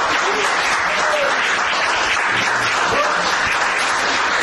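Steady audience applause for a singer, dense continuous clapping from a crowd that fills the whole stretch without pause, with faint voices mixed in underneath.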